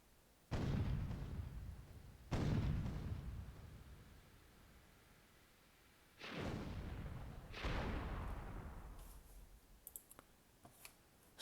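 Cannon fire and explosions from the video game Myth II Soulblighter, heard as four booming blasts in two pairs with decaying tails, followed by a few faint clicks.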